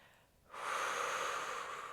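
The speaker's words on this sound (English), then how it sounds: "breathing in through the nose" A single sharp inhale through the nose during a Pilates back bend, starting after a short quiet moment and then holding steady and airy, close and fairly soft.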